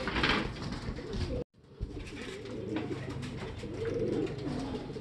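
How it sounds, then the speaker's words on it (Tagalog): Several pigeons at a racing derby coo with soft, throaty, rolling calls close by, overlapping continuously against a noisy outdoor background with a brief dropout. "nagdatingan mga ibon"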